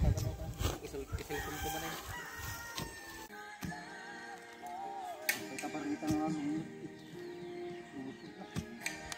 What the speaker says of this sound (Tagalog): Hindi manok ni Jikoy